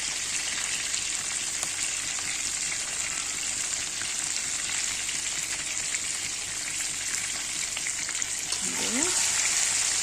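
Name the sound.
potatoes frying in oil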